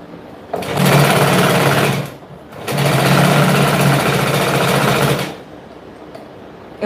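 A sewing machine stitches thin silk fabric with elastic shirring, giving two loud, close bursts of fast mechanical whirring, the first about a second and a half long and the second longer, with quiet gaps around them.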